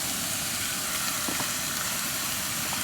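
Pork browns in the bottom of a large pot with a loud, constant sizzle and hiss, and a faint clink of stirring now and then.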